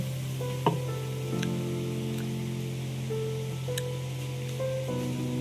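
Spiced water poured into a hot pan sizzles steadily. Occasional utensil scrapes and knocks from stirring cut through a constant low hum.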